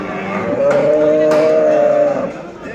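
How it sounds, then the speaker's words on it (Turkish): A cow at a livestock market in Göksun, Kahramanmaraş gives one loud, sustained moo of about a second and a half, close by against a background of market murmur. "Güzel bir inek."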